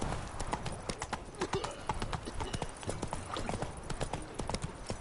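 Hooves of Roach, a horse in The Witcher 3: Blood and Wine, clip-clop in a steady trotting rhythm, close and clear throughout over faint ambient background.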